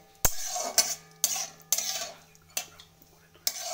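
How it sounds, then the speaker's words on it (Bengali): Carrots and raisins being stirred in a frying pan for carrot halwa: a utensil scrapes and clinks against the pan in repeated strokes, about six sharp knocks each trailing into a scraping sound, close and moderately loud, with no talk. "বেশিক্ষণ ভাজবো না, হালকা নাড়াচাড়া করবো। বারবার নাড়তে হবে যাতে পুড়ে না যায়।"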